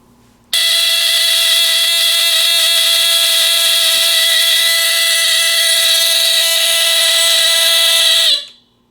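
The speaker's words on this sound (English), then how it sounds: "It instantly alarms. So it'll probably go into alarm immediately." An electromechanical smoke detector alarm: a piercing, steady electronic tone starts abruptly and blares continuously for several seconds, loud and close, then cuts off sharply.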